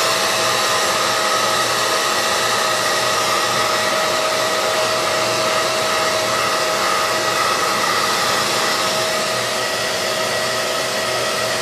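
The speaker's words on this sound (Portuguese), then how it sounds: "Eu vou secar mais um pouquinho" A hair dryer running steadily to dry a faux-slat and scrap-decor keychain craft, a loud, constant close whooshing blow with a faint whine that holds unchanged throughout, no speech over it.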